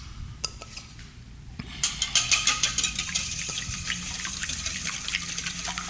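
A whisk beats a heavy cream mixture in a bowl with quick, rhythmic clicking strokes against the sides, starting soft and growing steadier and louder after a couple of seconds, with a single spoken word near the start.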